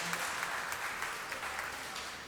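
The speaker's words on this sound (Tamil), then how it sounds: "மீண்டும் ஒரு முறை கைத்தட்டுங்க." A crowd claps together in a brief burst of applause, moderately loud and steady for a couple of seconds.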